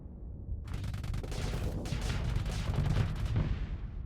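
Ship weapons and torpedo fire in the Starsector space combat game: a dense, continuous barrage of loud booming shots and crackling bursts, rising after a brief quiet start and sustained throughout without any voices.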